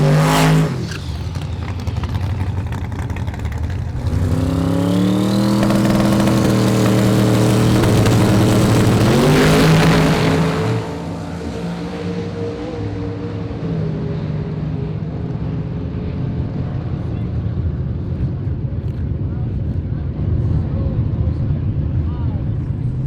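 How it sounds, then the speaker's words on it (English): Loud, close engine roar of a drag race car launching with boost and extra RPM down the quarter mile at Drag Week, rising in pitch through the run and then easing into a steady drone. "we're going to go out there with a little more RPM, a little more boost on the launch, and I get to go all the way to the quarter this time"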